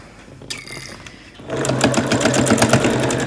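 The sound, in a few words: sewing machine stitching quilt-as-you-go scraps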